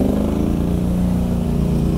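An AC Cobra Shelby classic car with a 289 engine at a vintage car gathering in Maisons-Laffitte, rumbling loudly and steadily up close with no talk.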